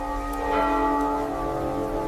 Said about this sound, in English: The bell was no longer ringing due to the wind. It rang in a steady,